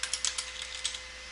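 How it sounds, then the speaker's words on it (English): Fast, light clicking of computer keyboard keys as a username is typed, a quick irregular burst of keystrokes heard up close and alone. "So I'm going to type in"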